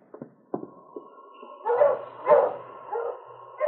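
Sled dogs in the Yukon bark and yip from close by: a few sharp separate barks at first, then louder overlapping barking and whining that rises in bursts.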